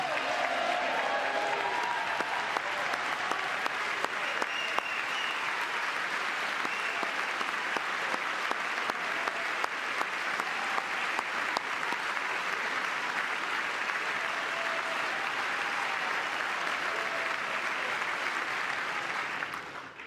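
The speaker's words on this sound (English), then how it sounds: "With the name Kennedy, you would have thought everybody over here would have been cheering." Sustained, dense applause from a large audience fills a chamber during a 2025 State of the Union address, steady for about twenty seconds before tapering slightly at the end.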